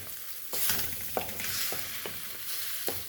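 Native eggs scrambling in a pan give a steady close sizzle, broken by a few soft scrapes of a spatula stirring through them.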